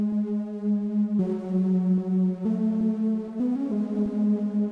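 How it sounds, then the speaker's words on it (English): Sustained synth line from the first layer of a metal song, a bright buzzy tone holding steady notes that change pitch every second or so, loud and alone without talk. "This is the first layer of the synth."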